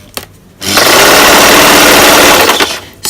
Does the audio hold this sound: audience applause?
no